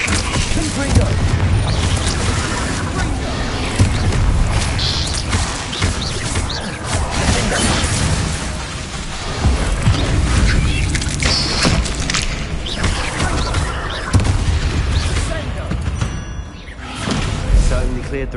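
Repeated Confringo fire spell explosions from Hogwarts Legacy boom and crash through a dense, continuous game battle mix, with voices speaking throughout.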